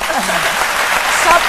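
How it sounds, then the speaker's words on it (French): Studio audience applauding on a French daytime television show, a broad steady wash of clapping that fills the clip with a voice faintly over it. "Je pense que j'allais entendre des applaudissements pour Ami."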